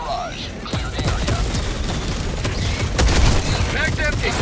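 Orbital barrage in the Helldivers video game, dense rumbling explosions and gunfire layered over one another, loud and continuous, with a voice speaking over the chaos.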